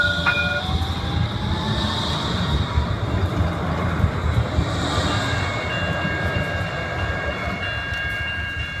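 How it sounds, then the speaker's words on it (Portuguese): Light rail tram (VLT) crossing Canal 1 in Santos, a steady rumbling roll with faint high tonal squeals, continuous and fairly loud, with no talking. "vamos ver o VLT, olha a sinalização dos pedestres e do VLT, que vai ultrapassar aí o canal 1."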